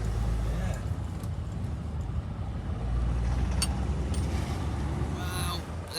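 A Ford Galaxy Mk4 2.0 TDCi diesel engine idling, a steady low rumble that stays even throughout, with faint clicks and a voice speaking over it.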